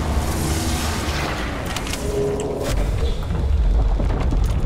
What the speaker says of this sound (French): Ça explose.